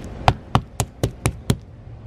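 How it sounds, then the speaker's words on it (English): Six sharp, evenly spaced knocks on termite-damaged wood trim, close and crisp, with no talking. "You knock on the wood"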